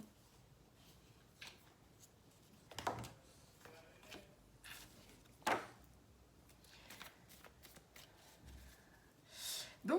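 Tarot cards being shuffled by hand in a quiet room, with soft intermittent riffles and slides spaced across the clip, fairly close but gentle.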